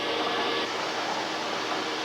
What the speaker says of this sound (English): Each udder is sprayed down before the vacuum cups are attached.